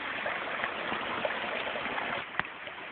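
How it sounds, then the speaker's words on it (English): Steady broadband rush of a creek flowing through rainforest in the Blue Mountains, close by and continuous with no voices, with a faint splash or two standing out. "There's the creek right in front"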